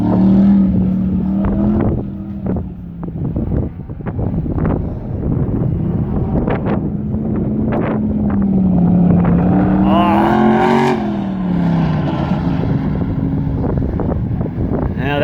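A Classic Muscle race car on a timed lap at a 2020 NMCA event holds a droning, rising-and-falling engine note with wind noise buffeting the microphone, while a commentator talks over it throughout.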